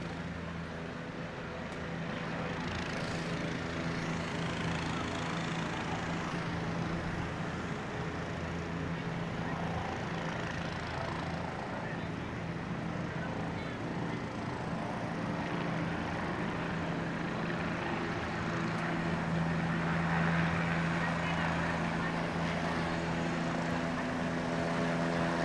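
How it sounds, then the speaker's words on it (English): An air medical helicopter for Trinity takes off, its rotor and engine making a steady, moderately distant drone that holds for a long stretch and swells slightly louder toward the end. "that air medical helicopter for Trinity"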